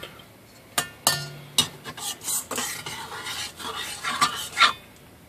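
A utensil clinks and scrapes around a bowl while stirring yeast, sugar and lukewarm water for pizza dough, a series of close, uneven taps and swirls.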